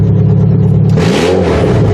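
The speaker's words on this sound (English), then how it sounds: "But the car runs" Engine of an all-wheel-drive Subaru under teardown, idling loudly up close with a steady low drone, then revving up in a single rising surge that climbs and settles back.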